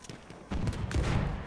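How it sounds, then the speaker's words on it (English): Gunshots in the video game Battlefield 1, with a few sharp cracks followed by a rapid, loud burst of overlapping shots that fills the rest of the moment. "The crisp shots."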